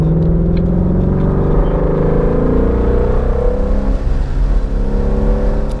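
A 2016 Ford Shelby Mustang GT350's naturally aspirated 5.2-liter flat-plane-crank V8 accelerates hard, its loud engine note climbing in pitch through the revs, heard close from inside the car with no talking.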